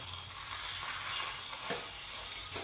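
Boiled potatoes frying in white oil with a tempering of whole cumin and dried red chilli, being stirred in a kadai: a close, steady hissing sizzle with faint stirring, no voices.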